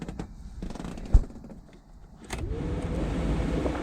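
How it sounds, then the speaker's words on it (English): A repaired heater blower motor in a Crafter van is switched on: a few clicks and a sharp knock, then a steady whirring hum rises and holds close by. "that's the blower motor finally back in"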